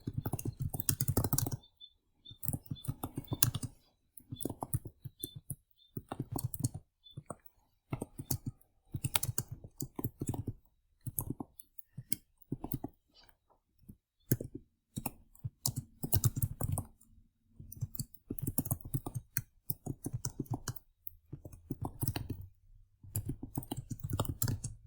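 Fast typing on a computer keyboard while making a cardigan in ROBLOX, with rapid bursts of close clicking keystrokes broken by short pauses, and no talking.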